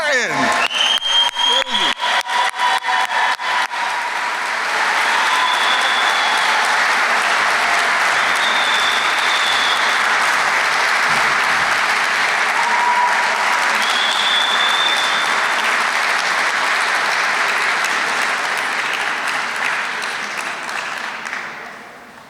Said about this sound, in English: please join me in applause as I introduce the newest member to the Gettysburg Hall of Athletic Honor